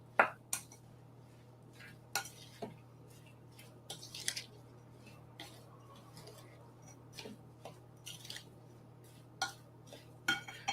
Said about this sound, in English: now all we have to do is just mix everything together and make sure those seasonings get coated on all of the ingredients